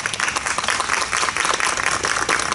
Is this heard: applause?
yes